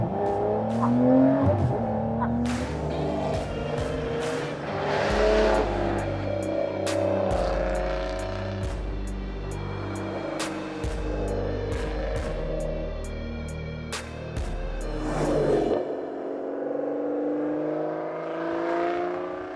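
A Ferrari, Lamborghini or Aston Martin sports car with a V8, V10 or V12 engine revs hard while being driven on a track, rising and falling through gears with loud, sustained roaring and brief lifts, no talking.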